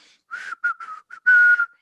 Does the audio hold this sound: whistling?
yes